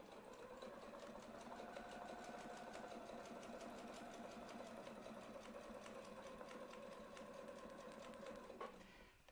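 A sewing machine stitches a spiral quilting arc, running in a fast, even rhythmic whir for several seconds before stopping abruptly near the end.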